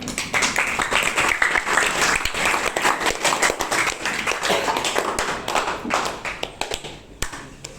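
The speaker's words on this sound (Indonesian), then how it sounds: "Tepuk tangan untuk yang maju." Students in a classroom applauding classmates who came to the front, with close, crisp clapping from many hands holding a lively, uneven rhythm for several seconds, then tapering off into a few final claps.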